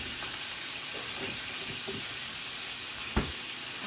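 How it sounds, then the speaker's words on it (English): Beef sears in a hot pan for a slow cooker pot roast stroganoff, a steady close sizzle and hiss filling the background, with a brief knock near the end. "behind me, I am sure you are hearing our meat. It is searing on each side."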